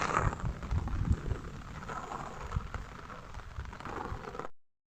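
Rain falls steadily in a village with strong wind, a broad hiss and some gusting noise, fairly faint, then cuts off abruptly.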